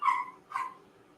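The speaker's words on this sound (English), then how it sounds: "They got to bark and let her know that." Dogs at home giving two short, high yipping barks close by, with a brief fading tail after each and no talking.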